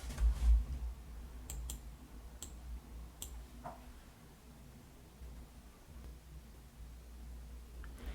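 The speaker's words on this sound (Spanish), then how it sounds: "Ok, le voy a dar a Enter." Keys on a computer keyboard, including the Enter key, give a handful of sharp, isolated clicks spaced a second or so apart over a quiet, faintly humming room.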